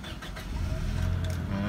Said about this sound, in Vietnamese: Bây giờ mình sẽ đề máy cho quý vị và các bạn cùng xem.